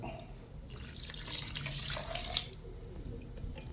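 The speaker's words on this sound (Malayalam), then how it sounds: "നമുക്ക് ഇതിനകത്തേക്ക് ഇനി ഒന്നാം പാൽ ഒഴിച്ചു കൊടുക്കാം." First coconut milk is poured into a hot stew, a soft continuous liquid trickle and splash that stays faint and close, with no voices.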